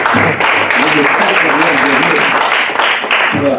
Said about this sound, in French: Fabien, il faut vous lever pour déclencher un tonnerre d'applaudissements